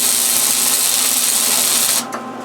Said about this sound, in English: I'll finish welding that up